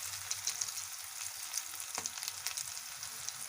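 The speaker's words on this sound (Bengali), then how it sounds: "দেখুন কত সুন্দর ভাজা হয়ে গেছে মুচমুচে 1 পিঠ" Banana flower chops (mochar chop) fry in oil with a continuous close crackle and sizzle, scattered pops, and a single sharp clack from a spatula partway through.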